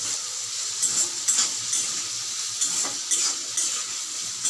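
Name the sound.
stirring banana flower curry with salt in a pan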